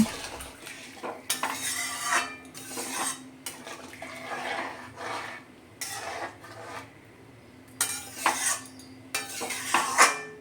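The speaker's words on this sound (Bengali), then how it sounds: "ভালো করে নেড়ে চেড়ে এটা ফুটিয়ে নেব" Catfish and potato curry with about two bowls of water stirred in a pot, bursts of spoon scraping and clattering against the metal separated by quiet pauses, close and fairly loud, no speech.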